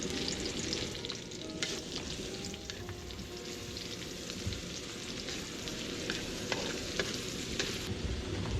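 Onions sautéing in hot oil for a fried milkfish paksiw with pork fat, a steady crackling sizzle with occasional stirring scrapes, close and continuous with no voices.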